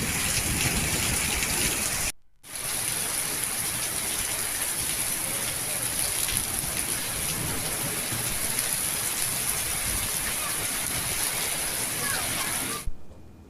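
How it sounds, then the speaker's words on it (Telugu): Heavy unseasonal rain pours down in Mulugu district, Telangana, a dense, steady hiss that fills the scene. It is interrupted only by a brief cut, and no distinct thunder stands out. "ఉరుములు మెరుపులతో కూడిన అకాల వర్షానికి"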